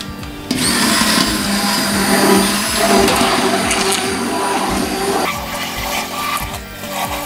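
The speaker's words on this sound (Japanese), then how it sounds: "乾燥卵白のダマがね、ないようにしっかりブレンダーで混ぜてください。" A hand blender mixes granulated sugar, dried egg white and trehalose. A loud, close, steady motor whir with a grinding, churning texture changes tone slightly partway through.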